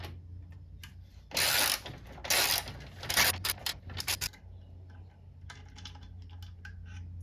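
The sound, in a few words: ratchet removing a 12 mm bolt from the FJ Cruiser horn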